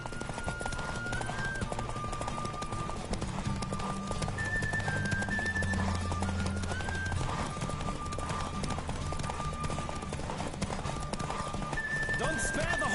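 Hoofbeats of a horse clip-clopping at a steady run in The Witcher 3: Wild Hunt, with brief whinnies, heard under continuous game music and background voices.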